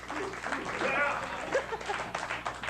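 A studio crowd cheers and applauds a contestant being welcomed onto a live comedy show, with a dense wash of clapping and a whistle rising over it while a host keeps talking.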